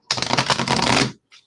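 An older tarot card deck is riffle-shuffled close up, one dense rapid burst of flapping card clicks lasting about a second, then a brief soft rustle as the cards settle.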